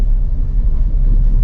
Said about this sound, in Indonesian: RPM 2500 oper ke gigi 2.